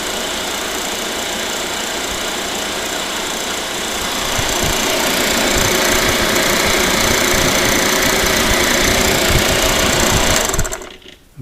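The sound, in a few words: vacuum pump running on refrigerator refrigerant line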